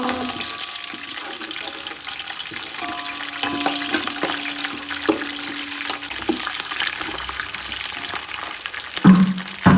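Garlic fries in hot oil with curry leaves in a loud, continuous sizzle, close up, with occasional stirring clicks and a faint hum.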